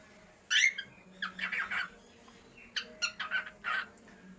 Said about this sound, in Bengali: কিন্তু শুনতেই পেলেন পাখিগুলা কি সুন্দর করে ডাক দিচ্ছে।